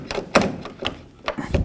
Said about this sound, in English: We shut the door. The striker's holding it in there.